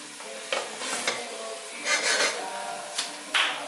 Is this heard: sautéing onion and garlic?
yes